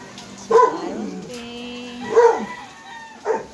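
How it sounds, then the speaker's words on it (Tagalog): A dog barks three times, loud and close, with pauses between each bark and a low hum underneath. "Pasensya na sa ingay ng aso namin."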